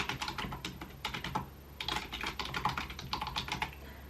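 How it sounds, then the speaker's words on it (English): Rapid typing on a white HP 230 wireless keyboard, close and fairly quiet, with a steady stream of soft plastic key clicks in uneven bursts over a low background hum. "I think it types really well. You can kind of hear it feels really nice"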